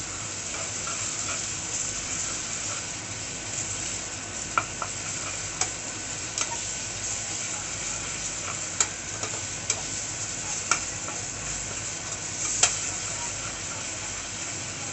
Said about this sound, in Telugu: పచ్చి వాసన పోయే వరకు ఇంటి ఫ్రై చేయాలి